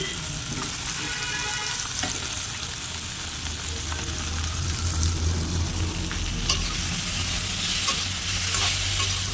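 Taro stolons (kochur loti) fry in a pan over a low gas flame with a steady, close sizzle, while a spoon stirs them now and then with soft scraping. No one speaks.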